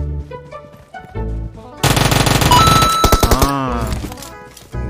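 Rapid automatic gunfire from an ADP submachine gun in a video game, loud bursts of close shots with echoing tails, over game music and effects.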